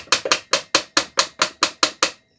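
Ten evenly spaced hammer blows ring out sharply and close while a Honda Biz C100 engine is taken apart, each strike decaying quickly before the next.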